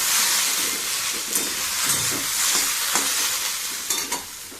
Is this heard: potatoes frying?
yes